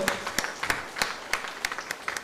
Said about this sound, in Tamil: உங்க கரகோஷங்கள் விட்டு நன்றி தெரிவிக்குமாறு கேட்டுக்கொள்கிறோம்